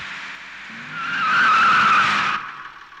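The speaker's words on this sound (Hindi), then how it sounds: "जोश, गाड़ी रोको" A car skids to a stop in a Hindi-dubbed South Indian movie scene: a loud, rising tire screech that swells and holds for about a second before cutting off, over a low engine hum.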